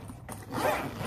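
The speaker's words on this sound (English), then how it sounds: "Next, we have the main zipper." A bag's main zipper is pulled open in one continuous zip, close and fairly quiet, with a faint rustle just before.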